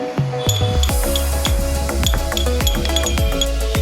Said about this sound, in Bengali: সো এই মধুটা আর কফিটাকে আমি ভালো করে মিক্স করে নেব।